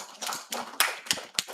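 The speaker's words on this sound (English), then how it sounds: "Please, a hand clap for her." Applause for a speaker at a medical society's annual scientific meeting: a short burst of evenly spaced hand claps, about five distinct strikes, close and clear.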